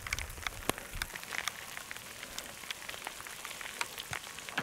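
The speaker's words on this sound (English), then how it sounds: "a few weeks later, the rain has arrived" Steady rain after bushfires in Australia patters on surfaces nearby, a dense, even hiss with scattered sharper drips, moderately quiet and with no voices.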